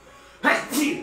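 A single sharp sneeze bursts out close by after a moment of quiet room noise.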